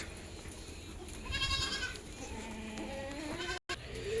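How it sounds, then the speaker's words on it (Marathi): Goats, a doe and her young male kid, bleat close by, a couple of wavering cries one after another over low background noise, ending with a brief dropout. "ही आमची कादी बकरी हिनं दोन पाठीने एक बोकड दिली"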